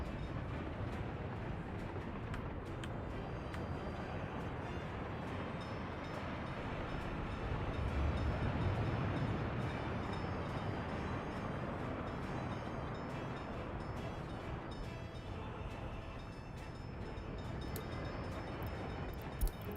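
Trains roll one after another through a rail intersection in Workers and Resources: Soviet Republic, a continuous rumbling wash of wagons and wheels at moderate loudness with no voices.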